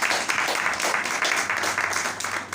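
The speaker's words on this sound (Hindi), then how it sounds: "उसके जलाल के लिए जोरदार तालियां" A church congregation at a Hindi-language Christian service breaks into sustained enthusiastic applause, dense rapid clapping filling the room without a pause.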